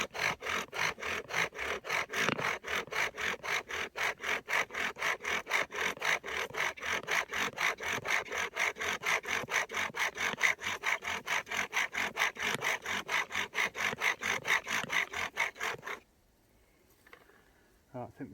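Bow drill spindle grinding against a wooden hearthboard in steady rapid back-and-forth strokes, a rhythmic rasping saw-like friction sound close by for a long stretch before stopping abruptly.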